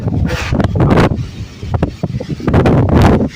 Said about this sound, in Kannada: ಇಷ್ಟು ಗಾಳಿ ಬೀಸ್ತೈತೆ